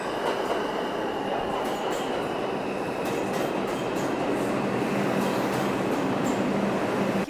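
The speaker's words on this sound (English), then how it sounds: "Here I am at the Times Square subway terminal. It's really, really busy today." Subway trains rumble steadily through the busy Times Square station in New York, with a continuous loud roar of rail noise and faint clicks and squeals overhead, no talking.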